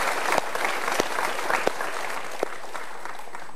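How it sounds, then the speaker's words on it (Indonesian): Audience applause at an Indonesian motivational talk show taping, a dense steady wash of clapping from a studio crowd with a few sharper claps poking out, lasting throughout without voices. "Kita berikan tepuk tangan untuk dua orang yang mau curhat."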